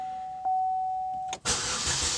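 A Chevrolet Malibu's engine cranks briefly after a steady electronic chime, then catches on the first try and settles into a smooth, quiet running hum after a P0016/P0017 timing fault repair.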